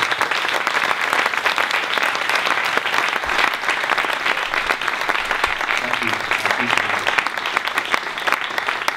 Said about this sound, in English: If I could ask for a nice round of applause